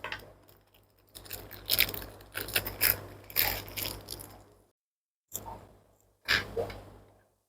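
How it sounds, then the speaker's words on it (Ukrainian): A small self-tapping screw is driven to fix a metal magnet plate onto an aquarium door, giving close, gritty ratcheting clicks and creaks in several bursts separated by short pauses. "Пластина фіксується одним маленьким саморізом."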